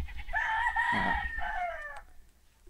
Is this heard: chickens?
yes